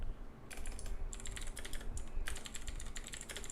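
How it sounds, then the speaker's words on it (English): Rapid keystrokes on a computer keyboard clatter in uneven bursts close to the microphone, with short pauses between runs and a steady low background hum underneath. "one second, I'm just typing"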